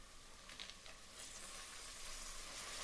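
Fenugreek leaves dropped into a hot pan for menthya bath sizzle steadily, a quiet continuous hiss and crackle that grows slightly fuller as the leaves fry.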